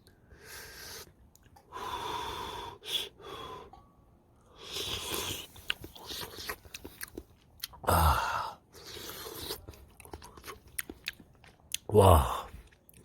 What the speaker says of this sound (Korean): 홍어애하고, 그 다음에 무를 같이 좀 먹어볼게요